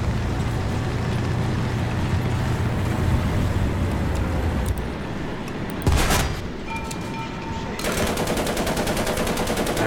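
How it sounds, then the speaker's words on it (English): Rapid machine gun bursts from a tank in the War Thunder video game, loud and close over a steady engine rumble, with a pause partway through before another stretch of fast repeated fire. "we're just going to use our machine gun to destroy that target"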